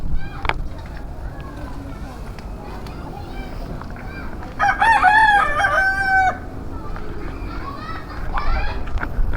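A rooster crows loudly partway through, a long wavering call, while chickens cluck around it against steady outdoor background noise.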